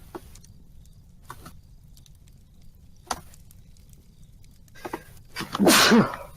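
A single loud sneeze bursts out near the end, preceded by a few faint clicks and soft noises over a quiet low hum.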